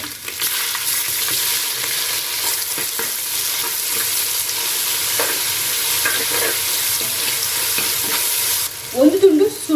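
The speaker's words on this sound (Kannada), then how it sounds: "ಸ್ವಲ್ಪ ಫ್ರೈ ಆಗಲಿ ಇದು ಫ್ರೈ ಆಗಿದೆ ಈರುಳ್ಳಿ ಮತ್ತು ಬೆಳ್ಳುಳ್ಳಿ ಶುಂಠಿ ಎಲ್ಲ" Onion, garlic and ginger fry in a pan with a steady, loud sizzle, broken by occasional clicks of a spatula stirring.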